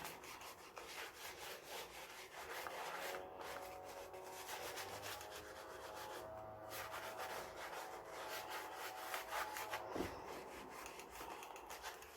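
Material is wiped off a mixed media journal page with quick, rhythmic rubbing strokes, a faint, close, dry scrubbing that repeats steadily throughout.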